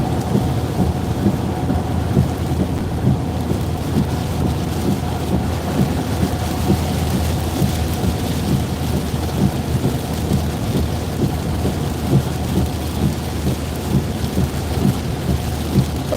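Heavy rain from a severe, tornadic thunderstorm in Smithfield, Virginia, a loud, constant wash of rain on surfaces with low rumbling thunder rolling underneath throughout, close and unbroken.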